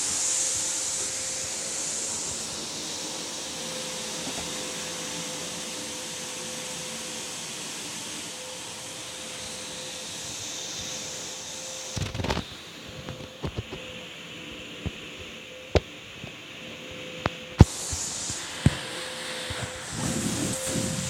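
A vacuum cleaner runs indoors with a steady, loud, breathy roar and a faint constant whine, joined later by scattered knocks and bumps as it is moved around.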